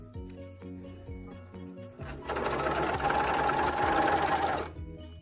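A sewing machine stitches a seam on children's shorts. A few light taps come first, then the machine runs in a close, steady mechanical buzz for a couple of seconds before stopping.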